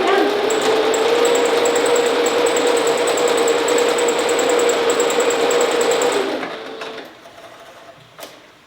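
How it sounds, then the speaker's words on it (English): A sewing machine stitches fidget blanket fabric squares in a close, steady, high whirring run for about six seconds, then slows and stops, leaving a faint click. "just sew straight down."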